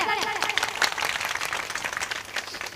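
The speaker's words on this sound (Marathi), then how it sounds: "निदान टाळी तर वाजवा त्यांच्यासाठी. जोरदार टाळ्या." An audience at a kirtan bursts into lively applause, many hands clapping together at close range while a voice briefly carries over the noise.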